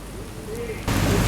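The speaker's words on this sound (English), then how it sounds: "we're setting up for Alex playing piano in the rain" Steady rain pours down on an outdoor music video set where a piano is being played in the rain, a broad hiss that jumps louder near the end as a heavier downpour or closer spray kicks in.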